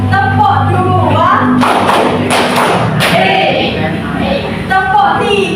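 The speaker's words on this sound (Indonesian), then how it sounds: "tepuk 2," Students in a classroom clap together in a "clap two" pattern, a loud cluster of sharp claps with a few distinct strikes standing out, set between stretches of spoken prompting.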